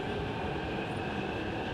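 A passenger train running on a London line as it nears London Bridge: a steady, dense rumble and rattle of carriage and wheels, close and continuous, with no talk.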